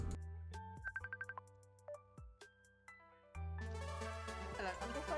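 A phone ringtone sounds with a melodic electronic tune playing in short repeating phrases for an incoming call, loud and close, then swelling into a fuller ringing passage at the end.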